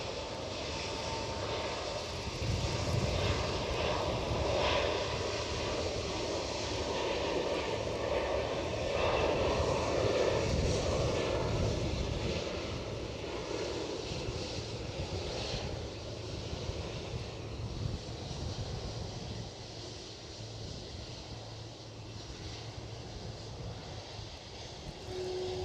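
A JetBlue airliner takes off at Edinburgh Airport, a broad, steady engine roar heard from a distance that swells slightly mid-way and then slowly fades.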